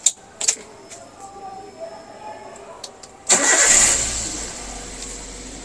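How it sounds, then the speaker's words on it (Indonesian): A Toyota Avanza with a K3-VE engine is started during an automotive skills competition. A few faint clicks come first, then the engine cranks and catches, settling into a steady idle. "Izin menyalakan mesin."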